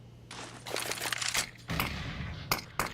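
Gunfire during a Counter-Strike: Global Offensive match, with rapid bursts of sharp shots in clustered volleys, fairly quiet and mixed with game noise, with no talking.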